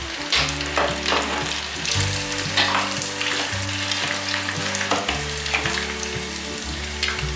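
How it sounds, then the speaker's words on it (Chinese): Tofu deep-fries in hot oil with a loud, dense, continuous sizzle and crackle close by. A steady low hum runs underneath, and no one talks. "你们看这豆腐炸得金黄酥脆的"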